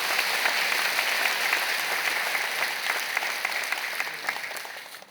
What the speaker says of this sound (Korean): 여러분 크게 박수로 환영하시죠.